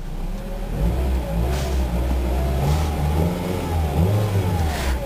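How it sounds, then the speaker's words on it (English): Engine of a 2001 Ford Focus SE station wagon running steadily with a low mid-pitched hum and mild revving swells, heard close and continuous with no talking. "Alright, we'll go ahead and see how she sounds."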